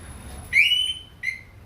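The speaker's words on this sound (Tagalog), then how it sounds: "Yun yung alarm system na sinasabi ko." Two shrill electronic chirps from a Harley-Davidson Softail motorcycle alarm system, a longer tone followed by a short one, sounding alone over faint background hum.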